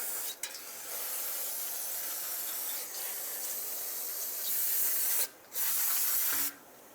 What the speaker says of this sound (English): So spray it all down to get rid of it.